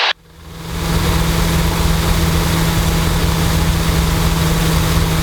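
A Luscombe airplane's engine surges to full throttle for a climb, rising quickly from a brief quiet start into a loud, steady propeller drone that holds evenly throughout with no talk.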